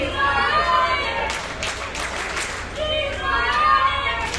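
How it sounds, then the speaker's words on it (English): A wrestling arena crowd at a New Wave Wrestling show chants "She's bionic" during a women's match, a loud, sustained mass of voices that swells and surges in rhythmic waves and fills the hall. "the crowd here chanting, "She's bionic.""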